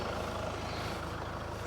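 A farm tractor idles after a hard session of hay baling, its engine giving a steady, loud low rumble with no breaks and no voices over it.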